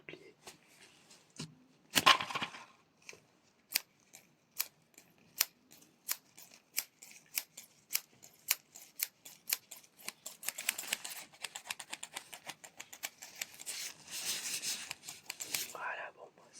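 Scissors snip in a quiet room, a long run of crisp, close individual cuts in a steady rhythm that quickens into a dense flurry of snips toward the end, with soft whispered sounds early on.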